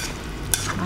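Indomie noodles with chili sauce and salt stirred in a sizzling pan, a brief close scrape over a constant frying hiss.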